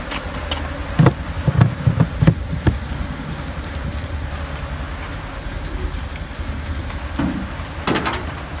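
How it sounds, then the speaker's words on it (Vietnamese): Honey bees shaken off hive frames at a beekeeping yard in Ba Vi, Hanoi, make a dense, steady buzz that fills the whole stretch, with sharp knocks and thumps from the frames and boxes now and then. "cách rũ ong vào cầu luôn của bác Trương ở Ba Vì, Hà Nội."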